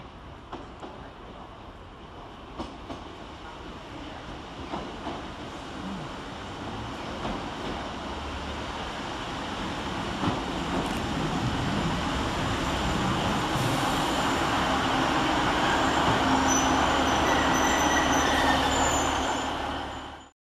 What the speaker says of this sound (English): here comes our train in the form of 150-133 with the 1448 Northern service from Clitheroe to Rochdale